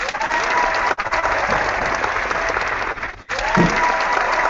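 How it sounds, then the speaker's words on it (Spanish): Applause from an audience fills the clip, a dense steady clapping with brief dips, no voices over it. "¿Cuántos aplausos?"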